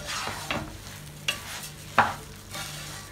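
Washed rice frying in ghee for beef rice, with several short, close scraping stirs of a spoon through the pan over a soft steady sizzle.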